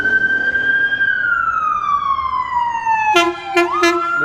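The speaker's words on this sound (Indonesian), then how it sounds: "lewat 2 ambulan aja" An ambulance siren in downtown Los Angeles wails steadily and slowly drops in pitch as it passes, followed by a few short blaring horn blasts at close range.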